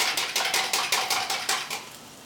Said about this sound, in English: Love that sizzling sound.